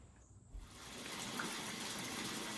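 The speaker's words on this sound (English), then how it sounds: "take your stock pot of tea and pour it into the bath" Herbal tea being poured from a stock pot into a filled bath, a steady gushing pour that starts after a brief quiet moment and continues close by.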